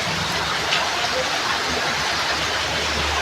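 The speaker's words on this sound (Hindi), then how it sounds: "बारिश का मौसम है, बहुत ज़्यादा शोर हो रहा है" Heavy monsoon-season rain pours down in a steady, loud, dense hiss that fills the whole stretch without pause.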